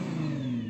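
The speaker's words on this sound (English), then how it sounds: "Go on, rev up the GT-R." Nissan GT-R NISMO engine revving up, a steady, close mid-pitched roar with a rising tone, heard on its own.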